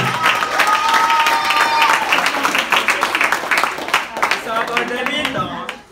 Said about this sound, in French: Les 3 jeunes reporters qu'on peut applaudir bien fort